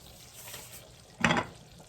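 Cassava leaves cooking in palm oil with Maggi cubes are stirred in a pot over medium heat, one brief wet scraping swirl against a faint background sizzle, no talking.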